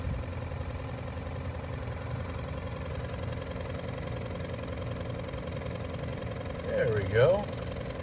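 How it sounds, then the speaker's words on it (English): Small aerator pump runs steadily in a bait bucket holding live shrimp during a cold-weather kayak fishing trip, a constant low mechanical hum throughout with a brief spoken remark near the end. "Here's the pump running"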